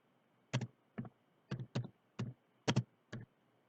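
Keys on a computer keyboard tapped while typing a web address: about nine soft, close clicks in an uneven rhythm, some in quick pairs, alone in a quiet room.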